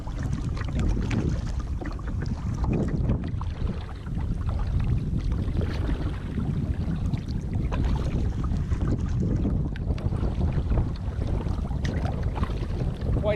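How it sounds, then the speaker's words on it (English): Strong south wind buffets the microphone on a kayak out on the water, a continuous loud rumbling roar that holds steady throughout with no talking. "Quite the south wind we got going there"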